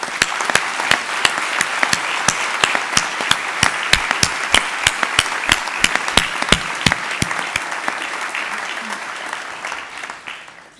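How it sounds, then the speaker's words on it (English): A graduation ceremony audience at the University of London applauds in a hall, many hands clapping with distinct sharp claps over a dense bed that runs steadily for several seconds before fading out. "So please, let's give them a round of applause."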